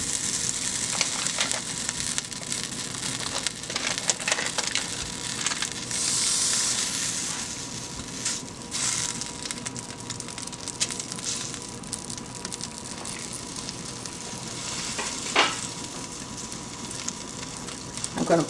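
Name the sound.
stick of butter sizzling in a frying pan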